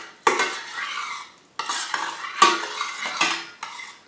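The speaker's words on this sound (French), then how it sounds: "je viens rajouter de l'eau dans du riz, voilà, pour le laver" Rice being washed in water in a bowl for homemade sushi, with bursts of swishing, stirring and clinking against the bowl, separated by short pauses, close and fairly quiet.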